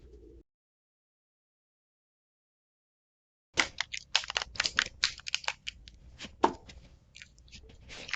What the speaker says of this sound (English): One more overhand shuffle and then we will cut the cards.